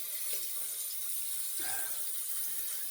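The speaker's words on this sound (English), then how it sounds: "So I'm gonna give it a good rinse of hot water." Hot tap water runs steadily from a faucet while a cartridge razor is rinsed under it, a continuous close splashing hiss with a brief change in the flow midway.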